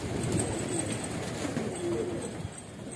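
Kasni pigeons kept in a netted rooftop enclosure coo softly in low, throaty murmurs amid a dense background of rustling and ambient noise.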